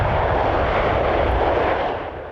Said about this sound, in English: 2 planes carrying 215 passengers have touched down at Canadian Forces Base Trenton in Ontario.